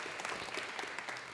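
A small crowd applauds at a microchipping party in Sweden, a dense, continuous clapping that holds steady and fairly loud throughout.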